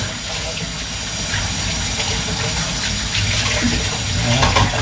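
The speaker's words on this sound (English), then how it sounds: "Rinse that off, just like I did with my garlic peeler thingy." Running tap water rinses a garlic peeler in a home kitchen sink, a steady loud gush of water that continues throughout with slight shifts as the tool moves under the stream.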